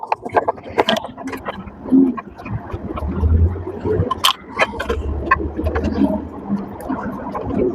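A top-loader washing machine's drain pump runs with a low, steady hum that swells and fades, mixed with gurgling water and intermittent clatter and knocks, fairly close.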